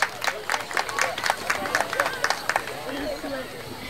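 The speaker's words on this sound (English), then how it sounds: "Let's give them another round of applause for Little Miss, Junior Miss, and Miss Sac Fox Nation." Audience at a Sac and Fox Nation traditional night clapping for Little Miss, Junior Miss and Miss Sac and Fox Nation princesses, a moderate patter of claps mixed with crowd voices that tapers off near the end.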